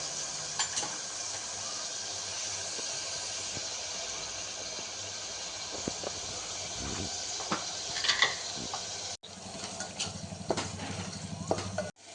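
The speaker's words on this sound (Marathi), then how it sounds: "आपण मसाला तेल सुटेपर्यंत भाजायचा आहे" Masala with chutney roasts in oil in a pan for Holi puran poli, a steady soft sizzle with occasional light clicks and stirring taps throughout, and a brief cut near the end; no one speaks.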